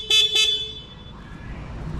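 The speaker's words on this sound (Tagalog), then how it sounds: "Ito ang busina niya." Two short car horn honks close together at the start, then a low engine rumble continuing underneath.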